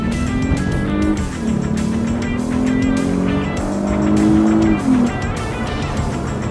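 A 2014 Lexus IS 350 F Sport in Sport Plus mode revs hard under acceleration, its engine note climbing and shifting through gears with loud, close mechanical roar and steady rising pitch; no one speaks.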